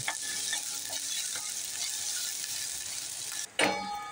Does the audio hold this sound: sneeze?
no